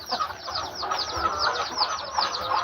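Egg-laying chickens on a farm cluck in a continuous busy chorus, many birds close together, with no talk over them.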